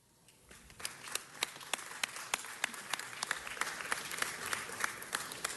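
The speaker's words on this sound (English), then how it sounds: "Please give a round of applause to this year's winning artist, Omar Guzman" Applause rises from a city council meeting audience for a festival's winning artist and his themed design, with sharp individual claps standing out over a steady patter that builds and holds, moderately loud at close range.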